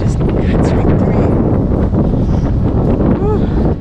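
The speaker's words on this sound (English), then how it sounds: "It's really cold and windy. The wind just cuts right through." Cold, strong wind buffets the microphone on a motorcycle trip in Alaska in September, a loud, steady rumbling roar that fills the whole clip with no break.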